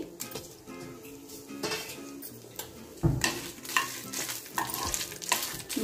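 Peanuts, cumin and dried red chillies fry lightly in a pan while a spoon stirs and scrapes, giving clinks and scraping against a soft sizzle, close by and without talk.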